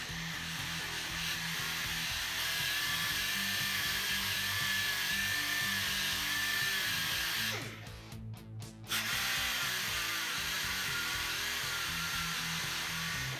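A power sanding pad cuts into the body of a homemade electric guitar, grinding steadily at a held-down speed with a brief dip and stutter partway through before resuming.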